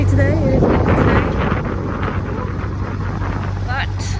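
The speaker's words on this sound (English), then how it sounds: "it is windy today" Strong wind buffets the microphone in a constant low roar, with a narrowboat's motor droning underneath and voices talking over it.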